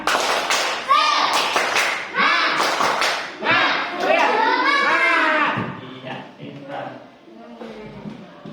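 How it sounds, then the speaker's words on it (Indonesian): Indonesian schoolchildren in class doing tepuk semangat, a spirit-clapping chant, with sharp rhythmic claps mixed into loud young voices chanting together, tapering off toward the end. "Ya, satu tepuk semangat."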